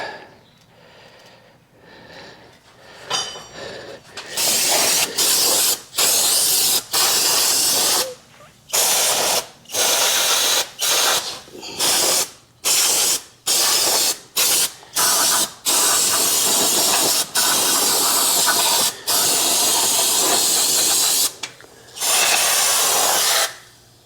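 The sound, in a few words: brake cleaner spraying from can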